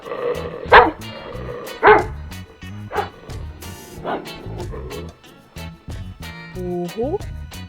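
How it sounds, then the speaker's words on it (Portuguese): A dog barks in several loud, sharp bursts spaced a second or so apart, with softer yips and a brief whimper in between, close and clear. "cachorro,"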